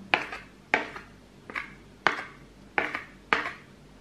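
A spoon scrapes leftover sticky batter from the bottom of a dish in six evenly spaced strokes, each a sharp metallic scrape that fades quickly, close and clear with no talking.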